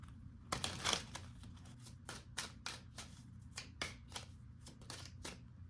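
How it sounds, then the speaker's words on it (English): Tarot cards are shuffled and flipped in a series of crisp, papery snaps and riffles. The sounds are close but quiet, irregularly spaced, with a denser flurry near the start. "Oh, card flip there."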